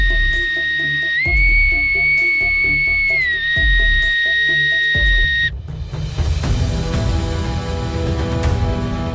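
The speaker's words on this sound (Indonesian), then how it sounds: "meniup Bootsman Fluitje, peluit serang khas kapal perang, sebagai aba-aba dimulainya pemberontakan" A boatswain's whistle on a warship shrills as one long steady pipe that steps up in pitch and then drops back. A dense, clattering burst of sound follows it.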